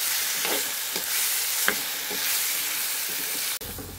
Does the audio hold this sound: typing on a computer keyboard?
no